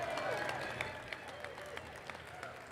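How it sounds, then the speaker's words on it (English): Applause for a beer-tasting panel at a brewers' festival stage: a moderate crowd claps steadily, with background chatter and a few sharper claps as it tapers off. "Round of applause for these guys."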